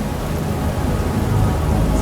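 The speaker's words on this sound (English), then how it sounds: "Oh no, it's raining." Rain in the video game Manifold Garden, a loud steady broadband hiss of rainfall with a low rumbling undertone, continuous throughout and with no talking.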